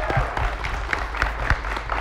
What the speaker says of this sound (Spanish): Fuerte el aplauso y que lo abra a ver qué es.